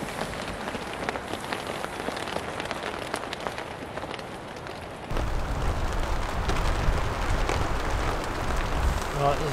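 Steady rain patters on a surface at a tent campsite during a rainstorm, a continuous broadband hiss that grows noticeably louder and heavier halfway through, with no talk.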